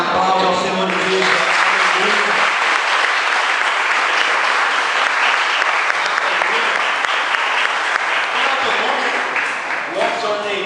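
A Baptist church congregation breaks into loud, sustained clapping after a prayer, with a voice speaking at the start and again near the end as the applause fades.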